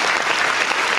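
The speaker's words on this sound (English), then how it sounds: "Why we clap hands when we say hello to people?" Dense, continuous hand clapping from people during a live board game show, a short steady burst of applause with no gaps.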